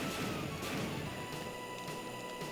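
Futuristic hover racers collide in F-Zero GP Legend, a loud, harsh crunching impact over a constant roaring wash of engine and track noise, with a few sharp bursts scattered through the stretch.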